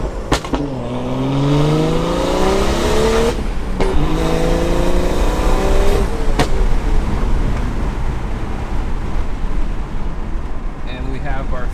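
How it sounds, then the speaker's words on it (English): A BMW 335i exhaust roars nearby as the car accelerates through gears, with rising engine tones, brief shift breaks and a continuous rumbling drone. "So enjoy this little exhaust clip."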